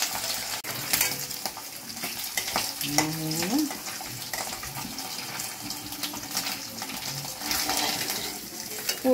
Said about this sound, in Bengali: ইলিশ মাছগুলো ভাজিয়ে নিচ্ছি